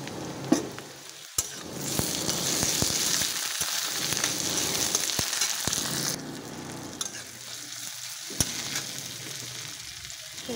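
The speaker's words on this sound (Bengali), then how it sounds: "অনেকটা ভাজা হয়ে গেছে। এবার দিয়ে দিচ্ছি টমেটো কুচি" Chopped tomato sizzles loudly in a pan of frying onion, green chilli and crushed garlic, a dense continuous crackle with several sharp clacks of a spoon against the pan while the mix is stirred.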